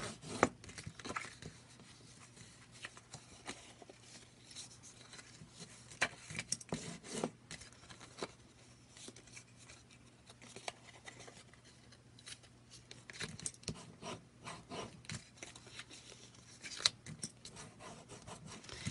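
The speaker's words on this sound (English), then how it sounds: "let's just work our creases in here" Die-cut paper party-hat box pieces are rubbed along their score lines to work in creases, giving a continuous soft scraping and rustling with occasional sharper swipes, close and faint.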